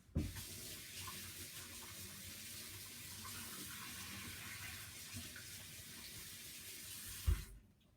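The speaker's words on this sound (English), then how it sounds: "I'm gonna wash my hands one more time because they get a little sticky" Hands are rinsed under a steadily running tap at a sink in a kitchen, with water splashing continuously at close range for several seconds before the flow stops and a small knock follows.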